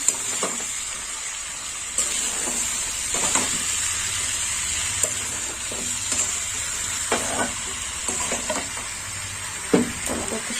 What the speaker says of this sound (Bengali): পুঁই শাক দেওয়ার পর আর একটু নেড়ে চেড়ে নেবো